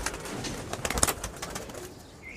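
A young Pakistani Teddy pigeon, hatched this year, coos in short, close calls amid a flock with faint wing flutters and bird chatter around it.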